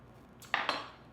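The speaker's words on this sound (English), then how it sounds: "We're going to stir it, and we're going to taste it." A metal utensil clinks twice against a pot of plant-based golden pepper soup while stirring, two quick, faint taps close together against a quiet background.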